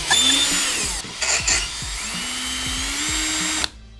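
Power drill loosening the fog light fasteners on a car: close, loud whirring bursts with a steady motor whine, a brief stop and restart, then a sudden cut-off at the end.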